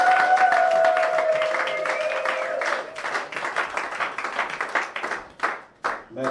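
Wedding guests at a church nuptial blessing clap together, with sustained voices and cheering at first, then the applause thins into scattered claps that fade out near the end.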